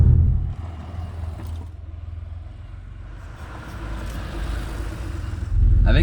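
Porsche 964 being driven, a low rumbling flat-six engine note heard from the cabin, moderate and steady with a soft swell, then a louder surge of rumble near the end; no talk.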